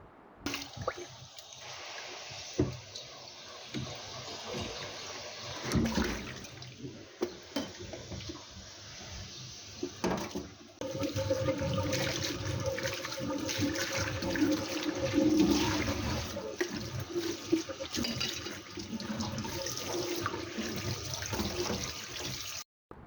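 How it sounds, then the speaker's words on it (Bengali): Dried fish (shutki) is washed under running water. A loud, continuous rush of water pours and splashes, broken by wet squishing and handling noises, and grows heavier midway. "তো এখানে আমার শুটকিগুলো ধোয়া হয়ে গেছে"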